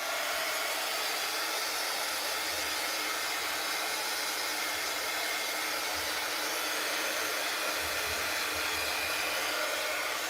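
A hair dryer blows steadily while drying a thrifted wooden pallet sign, a loud continuous broadband whoosh with no pauses and no voices.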